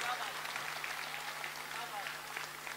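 Applause from the audience at an All India mushaira poetry gathering in Kolkata, a steady broad wash of many hands clapping that holds level and unbroken for the whole stretch.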